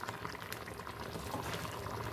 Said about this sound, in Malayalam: അരച്ചതില്ലേ, അരപ്പൊഴിച്ച് കൊടുക്കാം